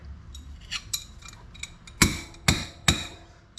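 A few light metallic taps, then three sharp, ringing strikes of metal on metal spaced about half a second apart, close by, as a metric wrench's hammer face strikes a castle nut on a 1974 Honda CL450 motorcycle.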